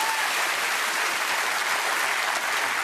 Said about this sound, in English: I will applaud that.